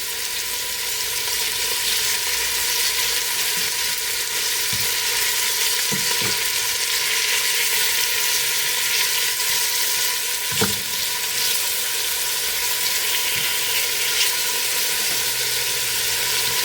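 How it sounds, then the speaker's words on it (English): Chunks of beef browning in a hot pot, sizzling and frying steadily throughout, with a few louder sputters and occasional stirring or turning sounds, close and with no talk. "Once the first side is brown, just give it a flip over."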